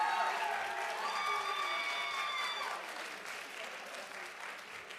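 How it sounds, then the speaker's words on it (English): An audience at a film screening event applauds steadily, a dense wash of clapping with a few cheers and whistles, slowly easing off. "So give a big round of applause for Jack."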